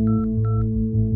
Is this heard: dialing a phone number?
yes